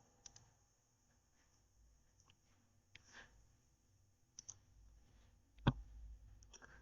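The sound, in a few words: mouse click on the create button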